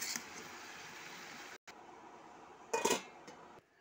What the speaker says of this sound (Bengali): এবার আমি লবণ আর হলুদ দিয়ে দেব, দিয়ে নাড়িয়ে দিয়ে ঢাকা দিয়ে কিছুক্ষণ হতে দেব।